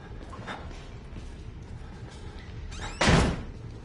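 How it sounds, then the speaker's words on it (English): Quiet background hum, then a single loud door slam in the video game Outlast with a sharp impact and brief rattle near the end. "He just slamming doors and shit."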